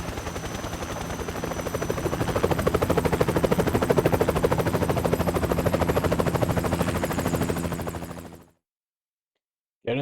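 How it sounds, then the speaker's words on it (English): Helicopter from the Metal Gear Solid video game, a loud steady rotor chop with rapid rhythmic beating that runs for about eight seconds before cutting off abruptly. "Get in the chopper."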